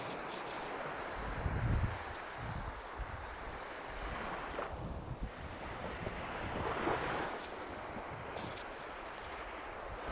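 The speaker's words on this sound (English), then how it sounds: "Come down here to the water's edge, this beautiful Mediterranean morning." Waves lapping at the water's edge of a Mediterranean beach on a morning, a steady wash of surf with gusts of wind buffeting the microphone, no voices.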